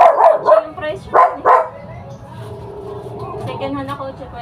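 A dog barks several times in quick bursts near a parked second-hand car during a barangay fiesta, with voices talking around it.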